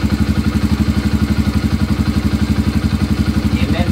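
A motorcycle engine running just after starting, loud and close, ticking over in a fast, even, regular thump.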